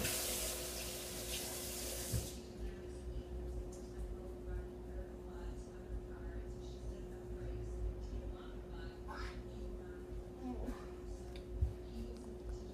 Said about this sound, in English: Now I must wash my face in that sink right there